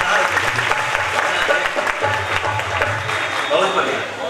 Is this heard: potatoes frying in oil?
no